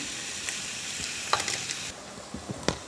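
Tomatoes fry in a pan for vegetable sagu, a steady sizzle broken by sharp clicks and taps of a spoon stirring against the pan.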